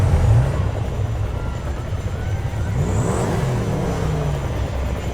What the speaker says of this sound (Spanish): He quitado todo el sonido de música para que se escuche simplemente el coche